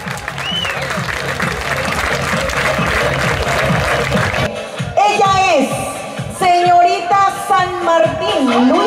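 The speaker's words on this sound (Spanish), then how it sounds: "el fuerte aplauso nuevamente" Audience applause at a village beauty pageant in Vereda Obando, 2022, greeting a contestant: a dense, steady clapping crowd for about four seconds, then giving way to music and an amplified voice.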